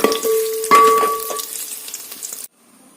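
Cashews and raisins frying in ghee, a bright crackling sizzle with a few clinks and stirring sounds, fairly loud and close, cutting off abruptly into near silence near the end, no voices.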